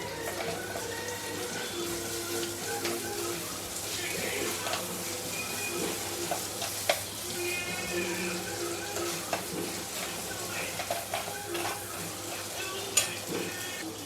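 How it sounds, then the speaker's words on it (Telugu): Onion paste fries in a pan for an egg curry, giving a steady, moderate sizzle throughout with occasional soft stirring scrapes and small clicks. "ఉల్లి పేస్ట్ వేసాను, అది కొంచెం బాగా వేగాలి."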